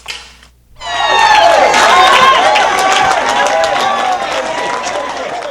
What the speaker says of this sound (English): A loud round of applause rang as 2 women were rewarded with a car for their faithfulness.